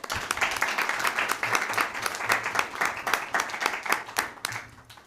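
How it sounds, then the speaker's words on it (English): An audience at a school board meeting claps together in a dense, lively round of applause, with individual sharp claps standing out near the microphone and the volume tapering slightly toward the end. "So let's give them all a round of applause."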